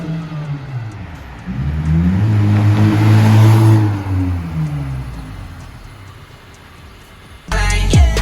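A car fitted with an HKS Jasma exhaust revs loudly nearby, its engine note climbing and falling over several seconds before a sharp burst at the end, with no talk over it.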